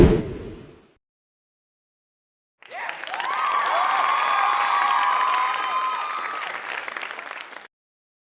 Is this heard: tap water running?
no